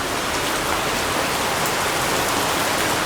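Heavy rain pours in a steady, dense hiss, loud and close, with no break or variation and no voices over it.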